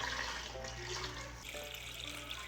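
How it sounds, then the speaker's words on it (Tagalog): Tap water running steadily into a frying pan in a home kitchen while cooking corn, a continuous close hiss and splash throughout. "Lagyan natin ng tubig."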